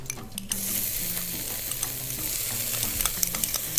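Onion sizzles steadily in a hot pan while a spoon stirs it, with soft scraping clicks over continuous frying hiss, close and even throughout.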